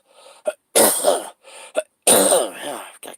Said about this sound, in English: I've got to cough this crap out.